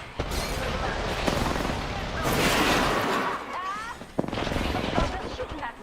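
Video game gunfire and explosions crackle and boom in dense bursts, with a player talking intermittently over the battle noise.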